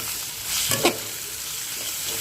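Two eggs hit a hot pan of oil seasoned with turmeric and chili powder, giving a brief crackling splash, then a faint, steady sizzle that continues quietly on its own.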